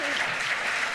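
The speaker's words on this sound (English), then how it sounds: "I like the clapping." An opera house audience clapping at a live event: a short burst of full, steady applause from a sizeable crowd, fairly close and loud, with a faint voice at the start.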